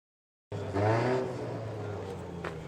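A race car on the top section of the Pikes Peak Hill Climb course during practice, its engine bursting in loud and close after a moment of silence, revving hard and then holding a steady roar.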